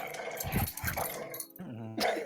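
A pet dog at home makes close, restless noises, low growls and whimpering yips mixed with short barks, coming in uneven bursts between brief quiet gaps.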